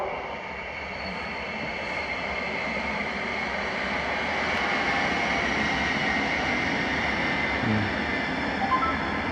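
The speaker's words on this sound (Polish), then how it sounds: "Po torze szóstym przy peronie drugim przejedzie pociąg bez zatrzymania." A loud, continuous roar of a train rushing through a Polish station platform without stopping, steady rumble and rattling filling the whole stretch.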